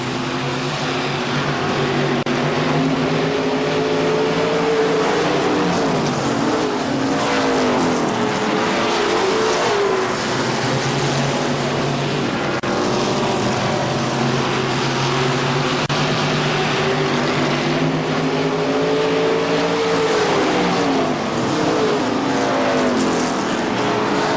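Stock race cars racing at KilKare Speedway, several loud engines roaring together with rising and falling pitch as cars pass and accelerate out of the turns, continuous and close.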